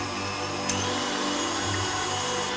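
A stand mixer whisking egg whites for meringue, a steady whirring motor hum held at constant speed with a brief click early on.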